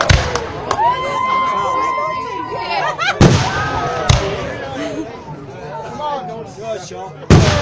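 Wedding fireworks display by a professional company, with sharp bursts near 0.7, 3.2, 4.1 and 7.3 seconds over a continuous crackle and whistles, as a crowd talks and reacts throughout.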